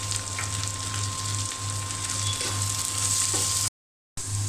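Bottle gourd with hot green chillies frying in a pan, a steady close sizzle with faint stirring, running alone until a brief cut to silence, then resuming.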